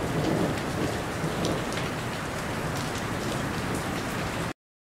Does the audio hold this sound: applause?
no